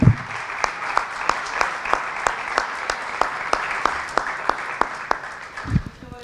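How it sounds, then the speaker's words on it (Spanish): A church congregation applauds God, with a bed of clapping and regular sharp rhythmic claps keeping time, ending in a louder burst with a voice near the end. "Dele un aplauso a Dios."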